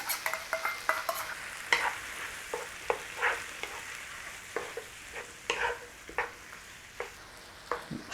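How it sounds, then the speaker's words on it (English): Beef and tomatoes stirred through a sauce in a hot pan for a Chinese-style dish, with a steady sizzle under repeated scraping spoon strokes in an uneven rhythm, close and fairly loud, with no talking. "Give that a little mix in"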